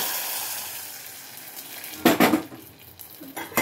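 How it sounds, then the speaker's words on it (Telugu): Garlic and cumin tempering sizzles sharply as it is poured into cooked dal, giving a loud burst of crackling followed by softer settling sizzle and a few utensil clinks, with no talking. "తాలింపు అయితే వేగిపోయింది, వేసేసుకుంటున్నాను."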